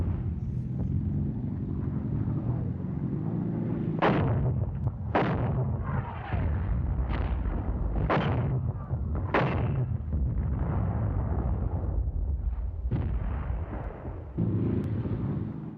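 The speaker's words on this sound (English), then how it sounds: "Covered by fire from the opposite side, the assault guns roll on toward the fortification" Heavy wartime gunfire covers assault guns rolling toward a fortification, with a rumbling continuous engine and battle backdrop broken by about seven sharp, loud blasts spaced roughly a second apart.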